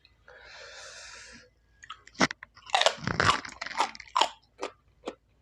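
Crunchy bites and chewing of raw rujak with purple eggplant, guava, banana, pineapple and cucumber. A hiss comes first, then several sharp, close crunches in quick succession between softer chewing.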